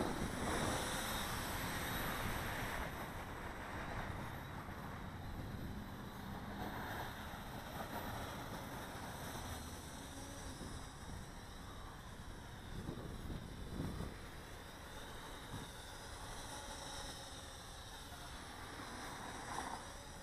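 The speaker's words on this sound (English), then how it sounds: "Wind's kicking up a little bit, making it a little tricky to fight it." Gusty outdoor wind rushes steadily across the microphone while a flying RC car is piloted, a broad continuous roar with slight swells and no voices.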